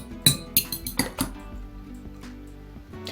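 A fork beats two eggs in a bowl for batter, giving a quick run of close, bright clinks against the bowl that soon softens to quieter stirring.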